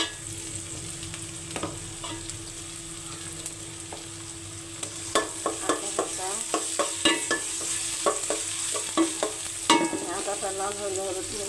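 Prawns frying in a pan while being stirred, a steady sizzle with rapid repeated scraping strokes of a spatula in the middle stretch, close and clear with no voices.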